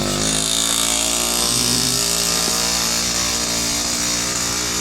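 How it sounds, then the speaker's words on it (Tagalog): An improvised motorcycle sidecar rig idles with a steady engine drone in Bangued, Abra, loud and close, holding an even, unbroken hum for the whole stretch with no talk. "Sidecar yan. Sidecar na motor."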